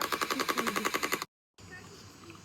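USB-charged toy gun firing soft projectiles in a rapid automatic burst of about a dozen evenly spaced clicky pops, close and fairly loud, then a sudden drop to silence and faint room noise.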